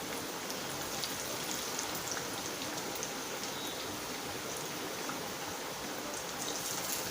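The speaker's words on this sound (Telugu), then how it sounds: "ఇలా వేసేసుకొని మీడియం ఫ్లేమ్లో పెట్టుకొని ఫ్రై చేసుకోవాలి" Crispy corn vadas deep-fry in hot oil over a medium flame, giving a steady, dense sizzle and crackle like heavy rain. The sound is close and continuous throughout, with no talking.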